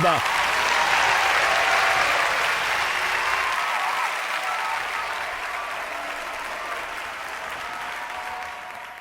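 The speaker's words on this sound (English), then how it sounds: "Let's give them all a round of applause." Audience applause at the world premiere of a musical, a loud, sustained roar of many hands clapping at once that gradually tapers off, with a voice briefly audible over it.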